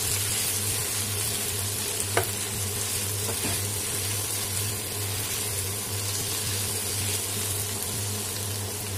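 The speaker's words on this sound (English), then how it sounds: "Stir for 1 minute and it's done." Taro stolon curry with mustard sizzling and being stirred in a pan, a steady soft frying hiss with a couple of faint utensil clicks, close and quiet.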